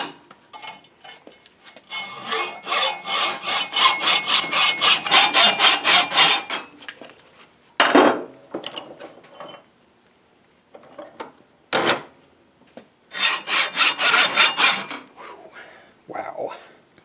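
A hacksaw cuts through suspected wrought iron in bursts of rapid, rhythmic rasping strokes, loud and close, separated by brief pauses.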